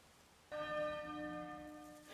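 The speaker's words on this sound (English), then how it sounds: "There's the bell again." A church bell in Octopath Traveler II strikes once and rings on, its clear, sustained tone fading slowly over quiet surroundings.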